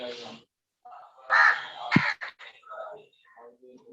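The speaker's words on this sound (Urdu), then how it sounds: "کسی کے یہاں سے کوے کی آواز آ رہی ہے" Crow cawing picked up from a caller's room during an online lesson, a few harsh calls scattered over the clip alongside a man's speech and background voices.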